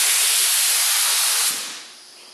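Pulling back the trigger of an automotive paint spray gun releases a strong, steady hiss of compressed air with no paint coming out. The hiss holds loud at close range, then tapers off as the trigger eases.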